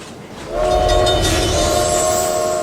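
A passenger train sounds a loud, sustained horn at close range, blaring steadily over the rumble of the rail cars.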